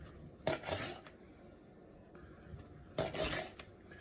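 A knife slices through tender smoked pork ribs on a board in two distinct rasping cuts, each followed by a softer scrape, close and fairly quiet.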